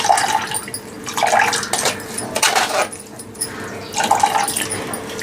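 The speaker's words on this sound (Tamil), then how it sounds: "அதனால இப்போ நான் இதை வடிகட்டி எடுத்துடுறேன்." Blended ABC juice trickles and splashes through a strainer in several uneven bursts, with soft liquid pouring sounds rising and falling close by.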